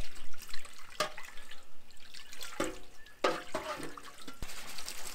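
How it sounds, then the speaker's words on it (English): Water splashes and trickles while soap is rinsed off a cooking pan at a riverside campsite, running steadily with a few sharper splashes and clatters, close by and moderately quiet. "once you've completely cleaned your pan, is to rinse it properly,"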